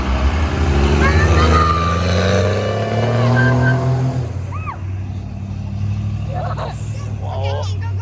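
A truck rumbles loudly nearby at a car show, its engine roaring with squealing tires before fading, while people talk and shout excitedly over it.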